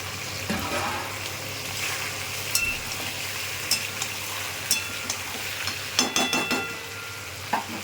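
Chopped tomato fries in a pan while being stirred, a steady close sizzle punctuated by occasional sharp taps and scrapes of the spoon against the pan.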